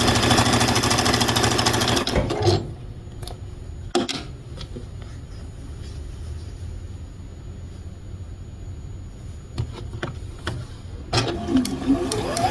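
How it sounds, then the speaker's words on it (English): A sewing machine chain piecing quilt pieces runs in a loud steady whir for about two seconds, then stops. Quieter handling noise and soft clicks follow before the machine starts again near the end. "I am kind of chain piecing these sort of through my machine"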